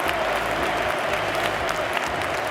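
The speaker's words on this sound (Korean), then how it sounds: "교체되어 나가는 손흥민에게 관중들은 일제히 기립박수를 보냈습니다." A stadium crowd of around 65,000 at a Tottenham vs Crystal Palace Premier League match gives a standing ovation to a substituted player: a continuous, distant roar of mass clapping that fills the whole short stretch.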